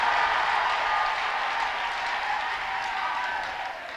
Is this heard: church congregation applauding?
yes